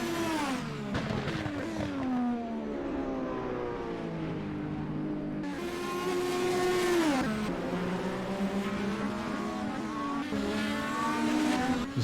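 Indy Car Brasil race cars on the St. Petersburg street circuit scream past one after another, high engines rising and falling through gear changes, with one car sliding wide near a corner, loud and close.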